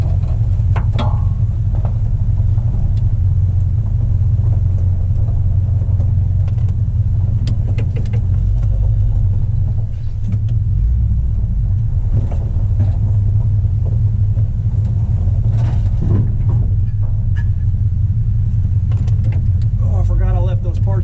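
A 1966 car with Stainless Works long-tube headers idles with a deep, steady, loud exhaust rumble that runs continuously throughout, with occasional small clicks and knocks nearby.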